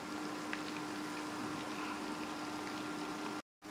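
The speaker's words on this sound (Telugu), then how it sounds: "వీటిని మధ్య మధ్యలో అలా కదుపుతూ కింద మాడకుండా ఫ్రై చేసుకోవాలి." Fish pieces fry in oil in a pan with a steady, close sizzling crackle that runs evenly, then cuts out briefly near the end before resuming.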